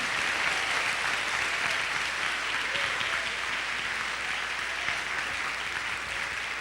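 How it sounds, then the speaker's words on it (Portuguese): A church congregation claps together at a Sunday family service, a dense, steady wash of applause that holds evenly at full strength throughout with no voices above it. "Você pode bater palmas para Jesus?"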